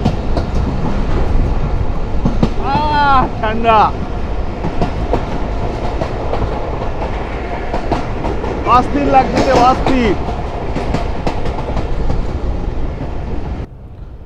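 Riding aboard the Dhalarchar Express through Pabna: a loud, steady rumble and rattle of the carriage fills the whole stretch, with a couple of voices talking briefly over the noise.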